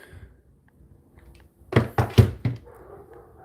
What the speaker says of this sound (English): now my dog is barking